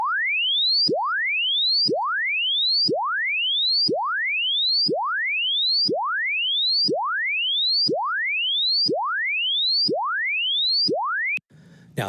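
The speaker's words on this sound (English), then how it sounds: "this first one is called a linear sweep" Linear-sweep broadcast test tones from an AM 1170 station transmitter test rise again and again in pitch. There are about eleven identical sweeps, one roughly every second, loud and clean with nothing else, and a brief burst of noise at the very end.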